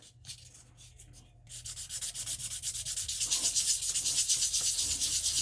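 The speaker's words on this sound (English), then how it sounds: "you're moving the sandpaper and holding the stone still" Sandpaper scrubbed back and forth against a jasper stone held still, a steady rhythmic rasping that starts light and sparse, then builds into louder, continuous close-up strokes.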